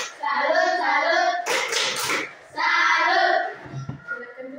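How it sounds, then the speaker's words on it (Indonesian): Fourth-grade class in an Indonesian school doing a rhythmic group 'tepuk salut' clap, patterned bursts of many small hands clapping together, with children's chanting and voices around the claps. "kita beri tepuk salut untuk teman-teman dari kelompok matahari"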